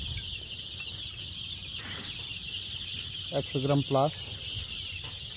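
Chickens on a poultry farm raising broiler and native birds give a short burst of clucking that rises briefly over a steady background hum, with a voice speaking nearby.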